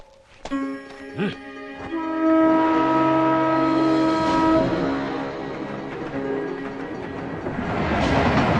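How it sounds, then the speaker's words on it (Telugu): A train pulls out of a station in a movie scene, opening with sharp clanks and a loud, sustained horn blast, then steady rumbling movement that builds toward the end. "శివాజీ బండి బయలుదేరింది"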